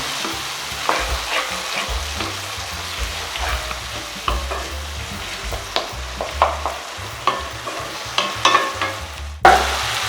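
Chana masala base sautéing in oil with chilli powder, a dense sizzle broken by frequent scraping spoon strokes against the pan, close and fairly loud.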